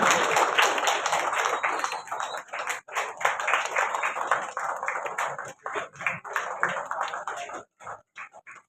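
An audience claps at an award ceremony for a charitable trust, a dense run of hand claps that thins toward the end into a few scattered, separated claps, fairly loud and close with a voice speaking over it.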